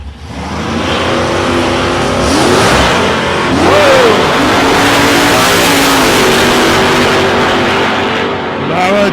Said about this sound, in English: Both cars sound like they're made to go.